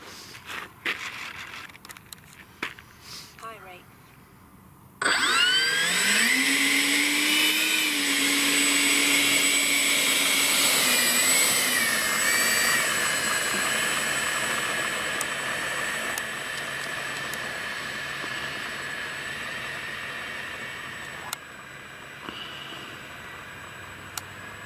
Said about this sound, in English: Well, it looks good taxiing down there, doesn't it?